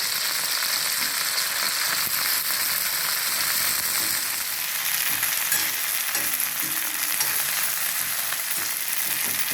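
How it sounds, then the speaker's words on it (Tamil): Coriander leaves and stems sauté in a pan with a steady, dense sizzle throughout, close and constant, and a few faint stirring knocks underneath. "நல்லா பச்சை வாசனை போகிற வரைக்கும் வதக்குங்க"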